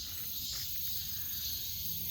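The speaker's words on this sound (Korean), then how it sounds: "매미 소리 잠깐 들으시면서" Cicadas sing outdoors in a steady, dense high-pitched drone that holds unbroken from start to finish, with no voices.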